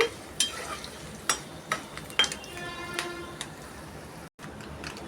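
Tempering (tadka) for a drumstick pickle frying in a pan, a steady close sizzle broken by several sharp clinks and stirring taps of a utensil against the pot, with no talking.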